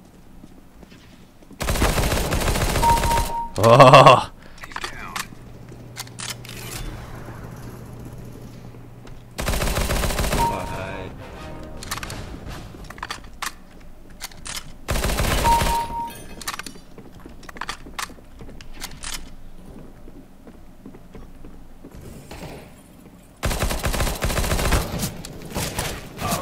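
An MP5SD fires in bursts in CS:GO: a short spray, then several more bursts separated by quieter lulls, and a voice briefly exclaims once.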